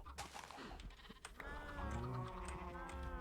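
Sheep bleating in a modded Minecraft farm, the game bleats sounding as a few drawn-out, wavering calls that grow steadier and louder in the second half over a soft background.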